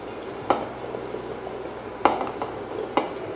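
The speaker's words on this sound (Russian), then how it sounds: "Отправляем грибы." Mushrooms go into a pot of Thai Tom Yum soup with shrimp, heard as three faint clinks and knocks of a utensil against the pot spaced over a few seconds, above a low, steady kitchen background.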